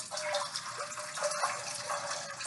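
Water gushes steadily into a pan to create steam for baking baguettes, a continuous close splashing pour with no talking.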